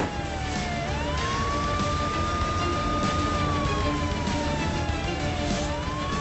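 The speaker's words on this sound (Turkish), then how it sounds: "Sen aç o sirenleri." Emergency vehicle siren wailing continuously in a steady rising and falling tone, loud and near over traffic rumble, with no talking.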